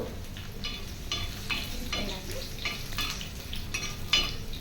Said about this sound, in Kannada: ಬೆಳ್ಳುಳ್ಳಿ ಕೆಂಪಗಾದ ಮೇಲೆ ಒಣಮೆಣಸಿಕಾಯಿ ಹಾಕ್ಕೋಬೇಕು ಅದನ್ನು ಒಂದೆರಡು ನಿಮಿಷ ಫ್ರೈ ಮಾಡ್ಕೋಬೇಕು